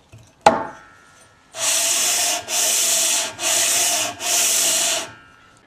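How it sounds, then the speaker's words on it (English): A motorcycle cylinder head from a Norton is lapped flat on an oversized sheet of abrasive over a granite slab. A single sharp knock comes first, then four long, even, gritty rubbing strokes, close and steady, with short pauses between them. "I've clamped on an oversized piece of abrasive. All I want to do is take off the high spots"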